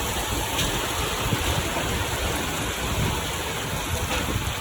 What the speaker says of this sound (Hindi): बारिश आ गई ब्रो